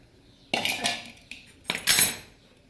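Freshly steamed dal dhokla made from wheat being taken out into a dish, with two bursts of metal utensil scraping and clinking against the plate, close and fairly loud, separated by a short quiet pause.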